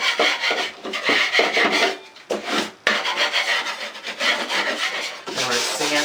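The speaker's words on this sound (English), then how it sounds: "I'm going to use this 4-inch blade right here to scrape away" Blade scraping loose tape off a drywall wall with a 4-inch knife, a close, continuous rasping rub in long strokes with brief pauses between passes, no talking.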